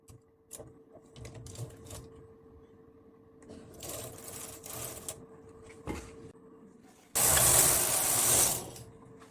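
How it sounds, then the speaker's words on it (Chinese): An SK280 home knitting machine carriage pushed across to knit one row, a loud rattling mechanical whir lasting about a second and a half, preceded by scattered quieter clicks and shuffling of the machine being handled. "推动机头编织1行"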